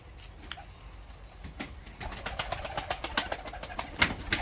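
White tumbler pigeons at a coop coo and rustle nearby, with soft wing flaps and small clicks over a constant outdoor background.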